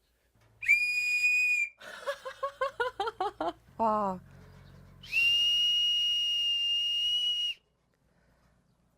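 A small wooden handmade whistle gives a shrill sustained blast, a rapid run of short chirping toots, a brief falling trill, then another long piercing steady tone. A voice briefly exclaims in between.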